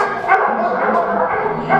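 Dogs barking in a refugee-experience installation, repeated yapping barks layered over a loud, dense background, with several bursts across a short stretch.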